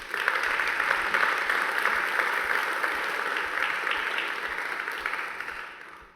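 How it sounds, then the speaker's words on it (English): Audience at a UNESCO inaugural conference breaks into sustained applause, a dense even wash of many hands clapping that holds steady for about six seconds before fading at the end. "Give him a big round of applause"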